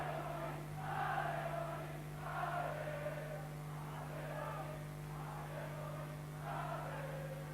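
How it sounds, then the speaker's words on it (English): A distant arena crowd at a heavyweight boxing match in Europe roars in waves behind a fighter, swelling and fading several times over a constant electrical hum. "Well, just listen to this crowd getting behind Chanet"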